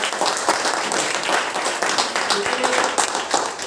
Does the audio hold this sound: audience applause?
yes